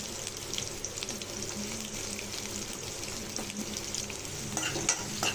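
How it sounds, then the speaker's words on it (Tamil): Freshly chopped small shallots sautéing in a pan with dried red chillies for a South Indian greens poriyal, a steady dense sizzle with faint stirring scrapes throughout. "இப்போ பொரியலுக்கு வெங்காயத்தை நல்லா வதக்கிக்கலாம்."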